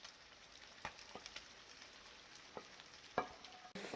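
Lamb and diced carrots are stir-fried together in a pot over high heat for lamb rice pilaf. A quiet, steady sizzle is broken by scattered scraping clicks from the stirring, with no talking.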